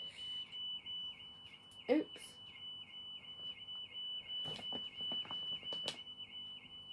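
An alarm going off somewhere outside sounds as a steady, warbling electronic tone that repeats throughout at moderate distance, with a few brief words and knocks close by.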